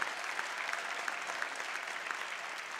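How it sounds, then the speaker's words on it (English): A church congregation applauds during a family sermon, a steady dense wash of clapping hands that holds at an even level throughout without pauses. "You can clap a little bit louder for that"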